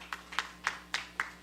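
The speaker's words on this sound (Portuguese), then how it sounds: "palmas." A handful of separate hand claps ring out at a film screening panel, five evenly spaced, fairly faint and quiet, sounding like only a few people rather than a full audience.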